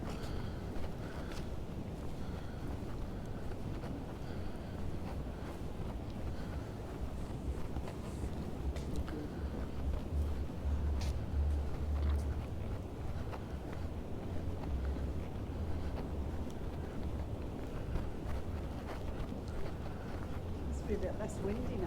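Gusty wind buffets the microphone along a beach promenade at Playa de Palma, Mallorca, a steady low rumble lasting throughout with soft outdoor background.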